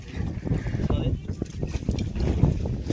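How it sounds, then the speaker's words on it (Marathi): A group boat ride on Veena Lake in Mahabaleshwar brings steady water churn and wind buffeting against the microphone, with people talking over it. "खूप मजा येत आहे बोटिंगला"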